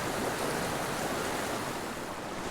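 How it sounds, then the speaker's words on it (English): Rushing water of a boulder-choked mountain creek, a loud, unbroken broadband roar close by, with no voices over it. "the noise of this section of creek is such a stark contrast to the flatness and quiet of this side"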